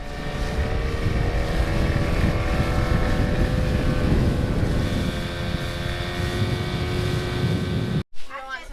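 A dinghy outboard motor runs steadily on the water with wind buffeting the microphone, a loud continuous drone that cuts out abruptly near the end.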